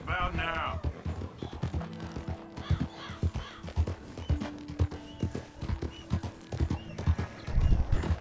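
Horse hooves clip-clop in Red Dead Redemption 2, a steady rhythmic series of close, hollow knocks with a brief whinny near the start and light ambient game sounds around them.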